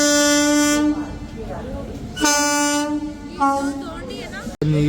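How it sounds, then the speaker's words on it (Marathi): A train arrives at Ujjain railway station and sounds loud, long horn blasts: a sustained tone, a second blast after a short gap, then a shorter third one, over station noise. "आपली ट्रेन सुद्धा आलेली"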